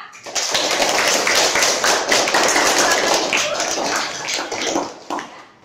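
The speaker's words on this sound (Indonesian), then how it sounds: "Kita berikan tepuk tangan untuk mereka." Classroom students clapping for classmates after their performance, dense overlapping applause that starts abruptly, holds steady for several seconds and then thins out and stops.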